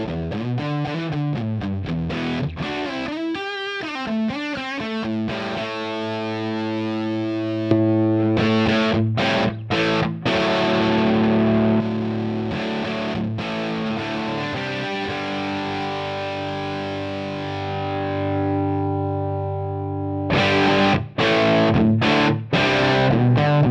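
Heavily distorted electric guitar through a Helix amp modeler playing sustained chords and quick chugging riffs, loud and saturated, with a short pause midway.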